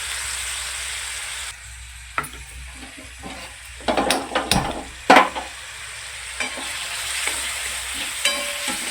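Onion fries in oil tempered with cumin and mustard seeds for stuffed brinjal, giving a steady sizzle that dips and is broken by several sharp stirring scrapes and clatters in the middle.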